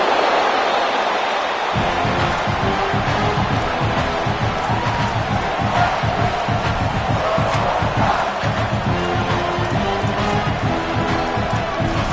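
A large crowd at a college football game between Alabama and South Carolina roars continuously, a dense, loud wash of cheering and chanting that swells and holds without letup.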